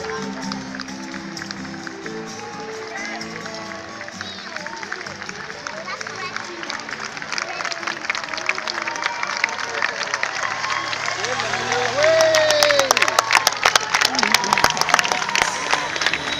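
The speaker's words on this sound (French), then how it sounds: "beaucoup d'applaudissements pour les derniers mètres" Spectators at the finish line of the Paris-Versailles road race clap steadily for the last runners, the applause swelling louder and denser toward the end while an announcer talks over a crowd murmur.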